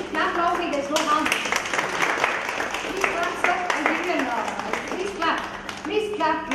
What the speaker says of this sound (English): I think clap loudly, there's no harm.